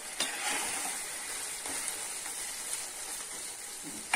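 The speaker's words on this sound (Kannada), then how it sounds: "ಜೀರಾ, ಪೌಡರ್ ಚೆನ್ನಾಗಿ ಹಾಕೊಂಡು ಸ್ವಲ್ಪ ಮಿಕ್ಸ್ ಮಾಡ್ಬಿಡಿ" Cumin powder being stirred into a frying mixture for a pepper fry makes a continuous hiss close by, with light scrapes of a spoon and a couple of small knocks.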